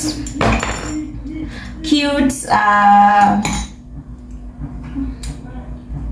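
Small baby feeding spoons clink and chime against each other and a dish in a few bright, close bursts, with a voice talking over and between them.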